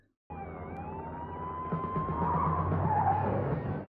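A truck driving off road in the 1988 movie Midnight Run, a loud sustained skid and engine roar with a high siren-like whine that builds, then cuts off abruptly.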